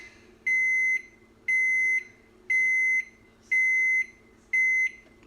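An oven control panel beeps after bake is set, five loud, even, high-pitched tones about a second long with short gaps between them, close by.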